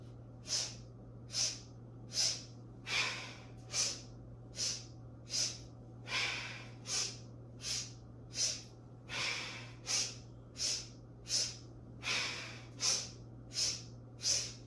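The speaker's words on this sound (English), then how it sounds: "So let's get started with our breath of joy." Yoga breath of joy exercise: a steady series of about twenty sharp, forceful nasal inhales and exhales in a regular rhythm, close and clear over a low constant hum.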